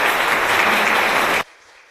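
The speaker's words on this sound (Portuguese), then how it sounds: "Vamos acolhê-lo com uma salva de palmas." A church congregation at Mass applauds to welcome the cardinal archbishop, a loud, dense wash of clapping from many hands that stops abruptly, leaving quiet room tone.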